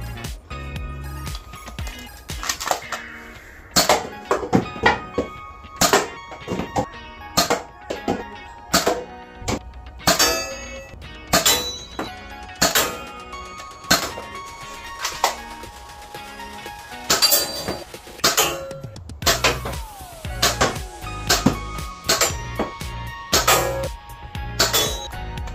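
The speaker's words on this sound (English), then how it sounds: "we'll actually put it to the test and see how powerful it is and do some shooting" A Nerf N-Strike Reflex pistol firing foam darts again and again, with sharp, close clicks and snaps in an uneven rhythm over about twenty-five seconds, each shot followed by a brief clatter.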